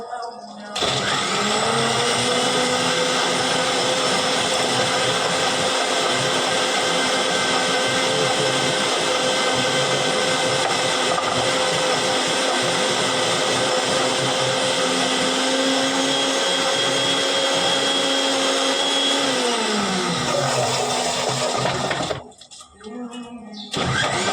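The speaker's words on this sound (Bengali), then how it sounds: "সেই মিক্সিতে দিয়ে দিচ্ছি।" A kitchen mixer grinder blends lemon juice with water, whirring up to a loud steady high-pitched whine that holds for about twenty seconds, then winds down and stops abruptly with a brief rattle.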